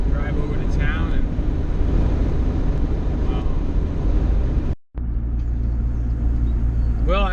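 Steady car engine and road rumble heard from inside a vehicle driving to town near Tioga, Pennsylvania, continuous and fairly loud, broken by a brief dropout before the drive noise resumes.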